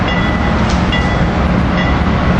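Amtrak Keystone Train 670 rolling into 30th Street station, cab car leading and AEM7 electric locomotive trailing: a loud, steady, close rumble with faint metallic squeal tones and light clicks, no voices.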